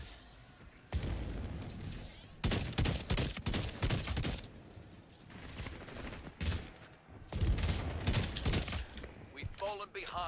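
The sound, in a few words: burst fire gun shooting in the video game Splitgate 2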